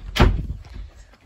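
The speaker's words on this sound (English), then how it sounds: "Let me shut the door." A door slams shut indoors with a single loud, sharp thud followed by a short fading rumble.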